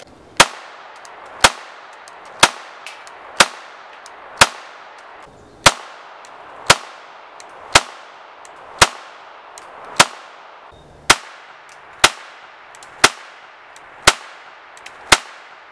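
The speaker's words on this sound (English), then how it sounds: "after shooting those three just back to back, this definitely is super fast to shoot" Shots from a Taurus TX-22 Competition .22 LR pistol ring out one at a time, about fifteen sharp cracks at a steady pace of roughly one per second, each with a short metallic ring-off, loud and close with no talking.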